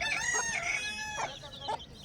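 A rooster crows loudly nearby, with a village hen's sharp clucks following right after.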